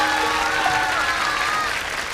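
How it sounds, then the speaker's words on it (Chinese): An audience applauds a guest speaker, a doctor of psychology, being introduced at a lecture event; steady, close clapping fills the whole stretch over a faint tonal backing. "掌声送给他。"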